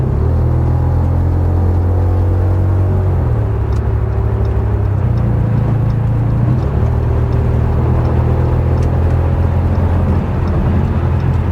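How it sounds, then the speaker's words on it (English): A V10 Audi sedan's engine drones steadily while driving, a loud, continuous low rumble and whir heard from inside the car with no one speaking. "Kind of impractical doing Uber Eats in a V10 Audi sedan, but you know, I'm doing it anyways."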